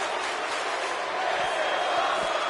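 A virtual arena crowd in the WWE 2K19 wrestling game roars in a dense, steady wash of cheering, loud and continuous throughout without breaks.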